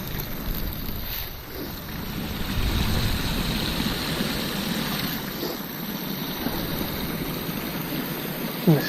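A clear spring-fed stream flows in the woods with a soft, steady rushing wash, faint and constant, with light wind noise now and then.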